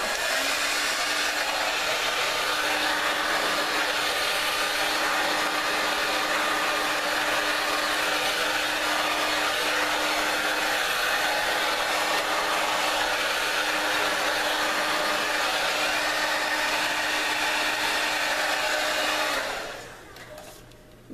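A Hot Tools hair dryer blows in a steady, loud, close whir that holds constant for about nineteen seconds before switching off.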